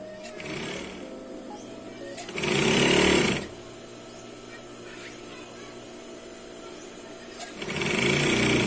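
A sewing machine stitches curtain fabric in short close bursts, a rapid whirring chatter of about a second each, separated by quieter pauses with faint handling.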